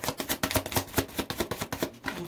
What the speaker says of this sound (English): Okay, shuffle these again.